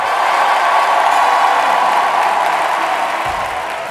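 Loud, steady applause from a comedy-show audience, dense and continuous for a few seconds, tapering slightly toward the end with no voices over it.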